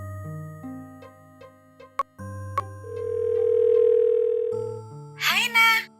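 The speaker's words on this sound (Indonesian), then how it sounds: "Telepon teman-teman aja deh." A landline telephone dialing out to call friends: a run of stepped keypad tones, two sharp clicks, a steady ringback tone, then a short burst of noise as the line connects. No talking.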